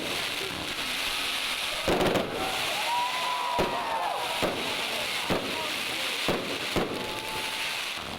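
Festive fireworks salute closing a concert for Abkhazia's State Flag Day, with repeated sharp bangs and crackles ringing out over a steady background of crowd and ambient noise.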